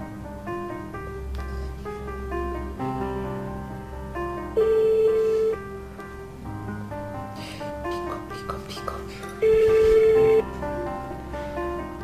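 Phone ringback tone while a caller waits for the call to be answered, two long steady beeps several seconds apart, heard under background music and ambient noise.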